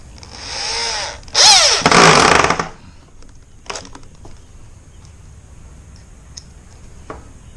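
A power drill drives screws into garden bed boards close by, whining in two short bursts, the second loud and revving with a pitch that climbs and then drops. After that come a few faint clicks and light handling noises.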